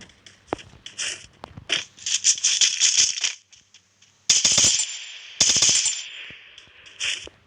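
Rapid automatic gunfire from a test-fired weapon in the mobile game Free Fire, loud and close, in several bursts with short gaps between them.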